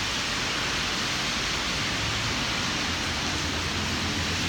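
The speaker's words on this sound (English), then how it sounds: "It's been raining like this the whole day." Heavy rain falls in a steady, dense hiss in Silang, Philippines, an even wash of sound with no let-up and no voices.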